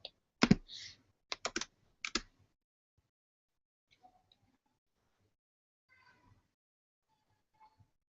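A brief burst of computer keyboard typing, several quick clustered keystrokes near the start, followed by near silence with a few faint scattered clicks.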